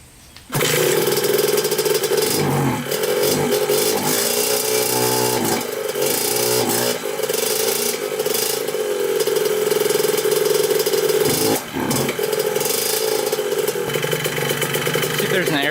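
A Suzuki RM 125 two-stroke dirt bike that sat unused for 15 years fires up and runs loud and close, its raspy engine note rising and dipping with throttle blips and a brief stumble, while a voice speaks over it.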